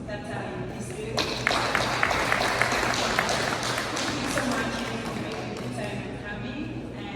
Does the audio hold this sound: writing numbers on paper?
no